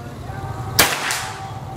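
A PCP airgun, an FX Crown, fires a single sharp crack during a long-range accuracy test, a loud brief snap with a short tail over faint background hum.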